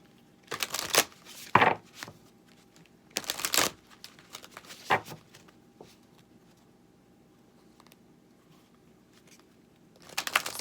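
Goddess Oracle cards being shuffled by hand in short bursts of riffling and flicking, separated by quiet pauses, close and fairly soft.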